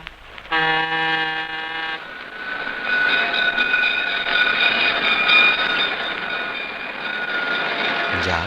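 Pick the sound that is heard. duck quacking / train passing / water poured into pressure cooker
train passing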